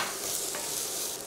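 Chopped onion frying in a spoonful of coconut oil in a wok, a brief dense sizzle held steady and close, alone without any voices.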